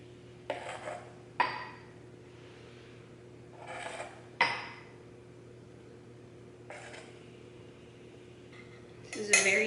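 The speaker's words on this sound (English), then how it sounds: "I'm just gonna use this measuring cup and put some of this into each of the bowls" Glaze being spooned from a measuring cup into bowls while making glaze for a baking challenge; a few separate soft clinks and scrapes of utensil against cup and bowl, spaced apart, with a louder clatter at the end, no talking.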